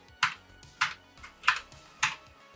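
Keys clack on a Commodore computer keyboard, four crisp, evenly spaced strokes about half a second apart, close and quiet with no talk.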